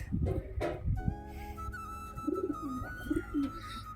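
Pigeons cooing close by, soft throaty coos rising and falling over a few seconds, mixed with some brief whistling bird calls and faint rustling in the background.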